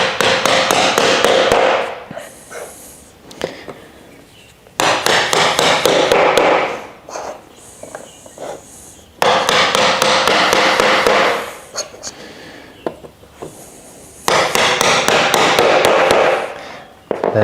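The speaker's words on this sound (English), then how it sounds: "take your medium length uprights and hammer them into place like so." Uprights of a partition shelf for a plant stand are hammered into place in bursts of rapid, loud, close taps, each run lasting a couple of seconds with short quiet gaps between.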